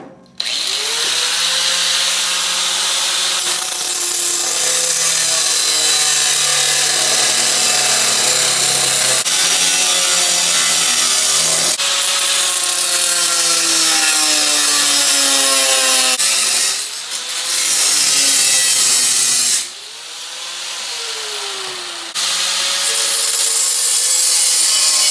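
A saw cuts through the ears of steel car frame rails in a shop, producing a loud continuous grinding and rasping run with shifting pitch and a few brief pauses between cuts.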